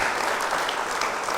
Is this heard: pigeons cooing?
no